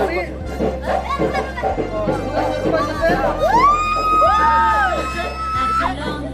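A lively crowd chatters and calls out, with whoops and cheers rising over the steady hubbub of many voices.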